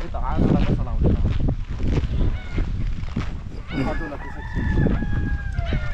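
Free-range country chickens on a poultry farm cluck and call loudly and close by, with a drawn-out rooster-like crow near the end and voices talking among the birds.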